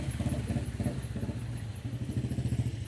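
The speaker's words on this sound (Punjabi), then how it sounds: "ਬੇਟਾ ਬੁਲਟ ਚਲਾ ਕੇ ਆਪ ਲੈ ਕੇ ਆਇਆ" A Royal Enfield Bullet motorcycle rides up with its distinctive low, thumping single-cylinder beat, steady and fairly close, heard alone.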